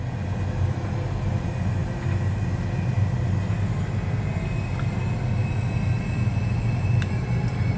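An Airbus A320 descends in a flight simulator game, giving a steady, loud, unbroken engine and airflow drone that holds level throughout with no talking.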